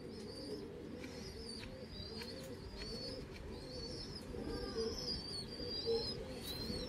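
Pure Punjabi Malwai pigeons coo softly and repeatedly in a loft, low throaty rolling coos layered with higher chirps and calls, fairly quiet and continuous.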